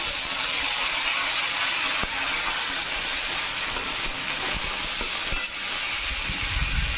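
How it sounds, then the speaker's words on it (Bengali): Mustard seeds and fenugreek sizzle in hot oil for a tadka, giving a steady, fairly loud hiss and crackle that runs unbroken throughout, with no talking. "এর মধ্যে আমি সর্ষে ফোড়ন দিয়ে দিলাম আমি কতগুলো আবার মেথি দিয়েছি"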